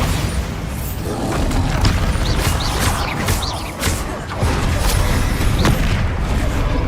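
Hogwarts Legacy combat with a Bombarda spell explosion, a dense, loud wash of booms, crackles and impacts layered over each other without pause, no voices heard.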